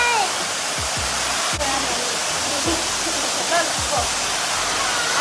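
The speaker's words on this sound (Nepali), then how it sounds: "असिना पानी परेको छ" Heavy rain mixed with hail falls in Pokhara as a loud, continuous roaring hiss, with scattered low thumps of larger impacts breaking through the steady downpour.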